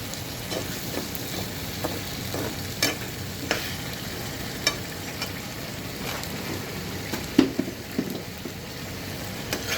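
Chicken pieces fry in hot oil with whole garlic cloves, giving a steady close sizzle with occasional clicks and knocks from stirring in the pan, with no voices.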